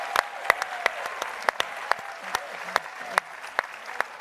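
Audience applause at a political forum, thin and scattered, with sharp individual claps over a low murmur and faint background voices, moderately distant.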